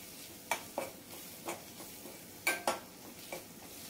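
Onion, coconut and garlic masala sautéing in oil for curried pigeon peas, with soft sizzling under several sharp spoon scrapes and clatters against the pan, spaced irregularly and close by.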